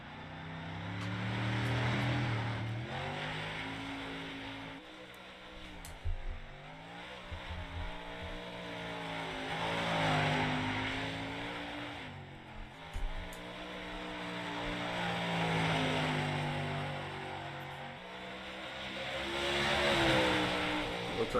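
Modified race car engines roar around Volusia in an iRacing series session, a steady harmonic drone that swells and fades in long waves as cars pass, with brief gear-shift dips and no talk over it.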